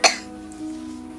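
A single sharp cough up close, a short harsh burst followed by a faint trailing throat sound.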